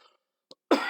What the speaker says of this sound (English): Well, I can't quit coughing.